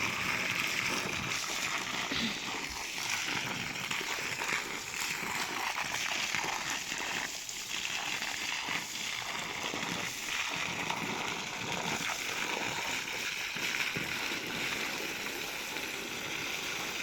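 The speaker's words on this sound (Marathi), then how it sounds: "झाडाच्या आळी भरून पाणी देणार आहे" Water pouring into the basins around garden fruit trees such as chikoo and guava, a steady, continuous rush and splash lasting the whole stretch at an even level, with no talk.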